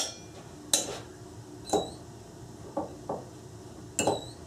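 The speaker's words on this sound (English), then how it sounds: "I'm going to mix everything together" Red cabbage salad with red wine vinegar is tossed in a bowl, with five or six sharp utensil clinks and scrapes spaced unevenly over a quiet background.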